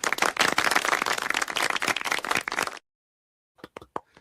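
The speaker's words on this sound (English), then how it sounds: "The clapping is the best part of it" Rhythmic group hand clapping from a Gremlins movie scene, a loud run of rapid claps for nearly three seconds, then silence and a few sparse claps.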